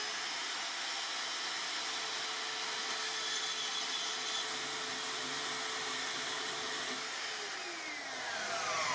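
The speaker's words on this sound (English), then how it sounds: "The next thing I want to try is handheld bandsaw." A handheld bandsaw cuts through brass with a continuous, loud, high-pitched whine and gritty rasp that holds steady for most of the cut, then eases and dips briefly near the end.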